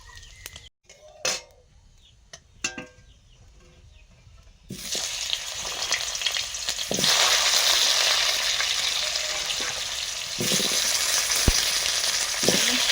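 Pumpkin with panch phoron, dried red chilli and other spices hits a hot pan and sizzles loudly and continuously after a few quiet clinks, the frying hiss swelling and persisting close by.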